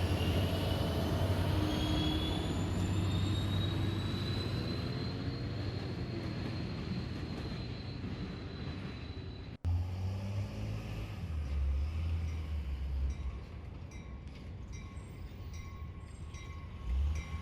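The Hiawatha passenger train rolls past a busy Chicago station, a loud sustained rumble with a high whining tone, then a brief cut and a lower, throbbing roll as the cars continue by; no one speaks.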